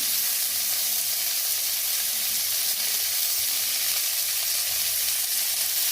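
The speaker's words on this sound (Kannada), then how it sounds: "ಈಗ ಇದನ್ನೆಲ್ಲ ಚೆನ್ನಾಗಿ ಫ್ರೈ ಮಾಡ್ಕೊಳ್ಳೋಣ" Tomatoes, mint and coriander fry in a pan with a dense, steady, loud hissing sizzle that carries on evenly throughout.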